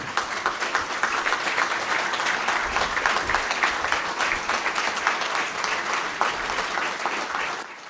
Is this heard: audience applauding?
yes